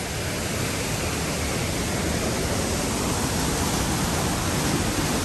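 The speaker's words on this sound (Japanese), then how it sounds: "これは川に流れてる滝ですかね。" Choshi Otaki waterfall on the Oirase Stream in Aomori, Japan, a wide river waterfall a few meters high, heard as a loud, steady, close rushing roar of falling water with no voices.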